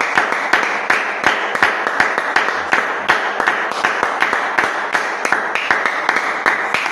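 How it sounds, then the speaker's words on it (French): A church congregation applauds for Jesus with steady rhythmic clapping, loud and near, the crisp claps repeating evenly for several seconds with no voices over them. "Applaudissons encore pour le Seigneur Jésus."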